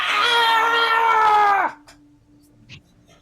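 A loud, piercing screech rings out from high above in a fantasy audio drama, one sustained wavering cry lasting about a second and a half before cutting off into near silence.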